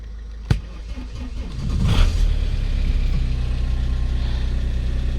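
Vauxhall Vectra B petrol car starting: a sharp click, then a cranking whir as the engine catches and settles into a steady, close idle hum.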